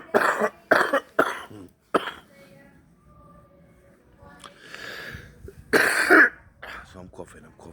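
A person coughs repeatedly in short harsh bursts, with throat clearing, then a quieter stretch and another strong cough burst later, all close to the microphone.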